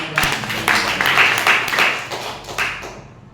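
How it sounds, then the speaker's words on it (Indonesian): A class audience at a school branding presentation breaks into loud, close applause, a dense patter of many hands that holds for a few seconds, then thins out and stops. "Tepuk tangannya dulu."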